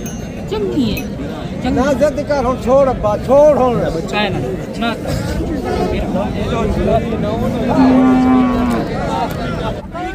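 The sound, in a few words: cow mooing at a cattle market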